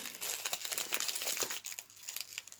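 Steady crinkling and rustling of plastic baggies as a handmade craft gift is unwrapped up close, a continuous crackly texture with no voices.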